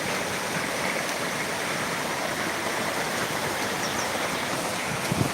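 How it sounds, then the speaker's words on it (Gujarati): Water spills over a full dam, a steady, close, broadband rush that holds even throughout, with a brief knock near the end. No voices. "ડેમમાં પાણી બહુ ફૂલે ફૂલ ઓગનેથી આવેલું છે"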